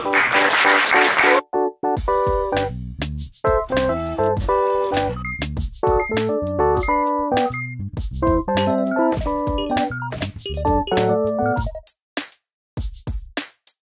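A short burst of audience clapping greets the manager at a live review show at a shoe venue in Hongdae-Sangsu, Seoul; the applause lasts under two seconds before loud music takes over.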